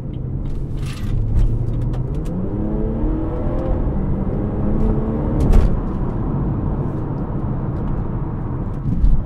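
A BMW 340i accelerates on city roads, its engine droning and rising through the gears as a low steady whir from inside the cabin, with a brief bump near the middle.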